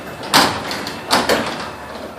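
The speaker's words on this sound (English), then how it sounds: "That's the Wayne Dalton garage door with the 8550." Wayne Dalton vinyl garage door, 10 by 7, closing under a LiftMaster 8550 opener, heard as two close broadband rumbling swells about a second apart over steady background.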